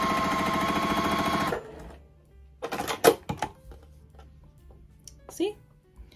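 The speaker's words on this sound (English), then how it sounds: "we're going to stitch 1/4 inch on either side of this line" A sewing machine stitches a quarter-inch seam on a small quilted mug rug, running in one close burst that stops, followed by a few light handling clicks and thumps.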